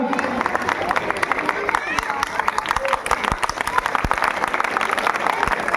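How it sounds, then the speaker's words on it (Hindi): Crowd at an open-air Ramleela performance of the Ramayana applauds a child actor playing Hanuman, brisk sustained clapping with scattered sharp claps and murmuring voices underneath. "जोरदार तालियां इस बच्चे के लिए"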